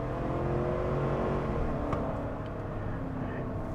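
V8 of a 2021 GMC Yukon AT4 in sport mode pulling hard, a steady, airy engine drone with a whirring tone heard from inside the cabin, holding an even loudness throughout.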